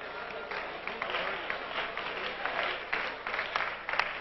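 A church congregation claps together during a worship service, a steady crowd applause with some voices mixed in, fairly faint and even throughout.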